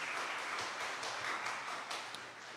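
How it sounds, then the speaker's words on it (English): Audience applause at a university campus open day and job fair opening ceremony, a continuous, fairly quiet wash of many hands clapping from a crowd in a large space, steady throughout. "Give her a louder round of applause."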